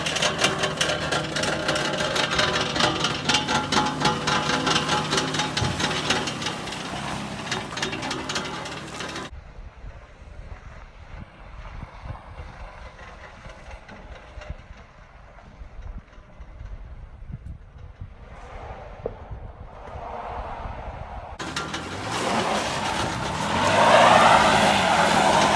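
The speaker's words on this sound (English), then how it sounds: "that's the exhaust rattling" A rebuilt, previously totaled Pontiac GTO drives up a hill with its exhaust rattling, a loud mechanical clatter over engine roar that eases to a quieter rumble midway and swells again at the end.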